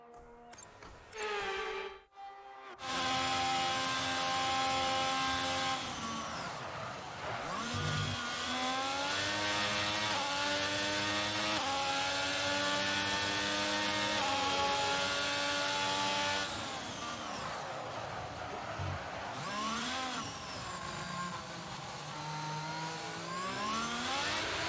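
An F1 22 race car engine revs hard in a video game replay, a loud continuous high whine rising and falling through gear changes, with a short lull near the start and no talking.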